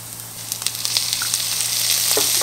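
Chopped garlic, onions and jalapenos fry in a pan with a bright, crackling sizzle that builds steadily and carries scattered pops throughout, close up with no voices.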